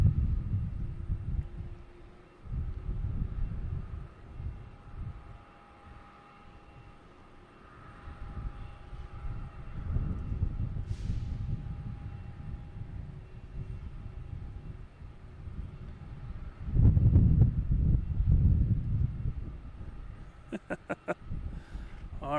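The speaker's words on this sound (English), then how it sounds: "next to arrive, here's some bright lights coming in. JetBlue from Aruba, Oranjestad, an A320" A JetBlue Airbus A320 arriving at Boston Logan from Aruba rumbles at a distance as a low, steady roar that swells and fades over the runway, with a louder surge near the end.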